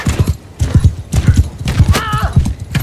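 Horse hooves clatter in quick repeated bursts during a cavalry charge in the video game Mount & Blade II: Bannerlord, mixed with a brief whinny and battle noise, fairly loud and close throughout.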